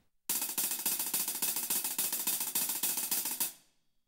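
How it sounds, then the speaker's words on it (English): A fast, even double stroke roll on a drum, played without accents, dense and steady for about three seconds before stopping abruptly, played close and loud. "the double stroke roll would sound like this."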